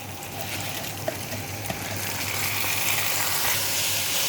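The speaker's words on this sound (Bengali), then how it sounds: "চালটা এখন ভালো করে নেড়ে নিচ্ছে পেঁয়াজের সঙ্গে মিশিয়ে দিচ্ছে" Rice stirred and fried with crisp fried onions in a pot for plain Bengali pulao, giving a steady hissing, gushing sizzle with a few light scrape clicks, fairly close and continuous.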